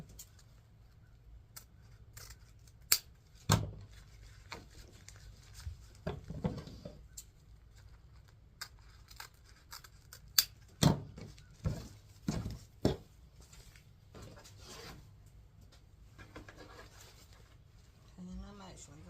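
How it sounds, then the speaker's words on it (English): Scissors snip through ribbon tails for a patriotic wreath, giving sharp, scattered cuts with quiet pauses between them and a few quick clusters of snips, while a person talks softly. "And I cut this side of the ribbon tails the opposite way I cut these."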